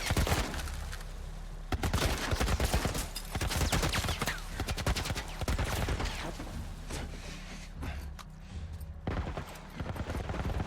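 Rapid gunfire bursts in The Last of Us Part 1 crackle loudly and repeatedly over a tense in-game soundscape, with sharp cracks clustered throughout.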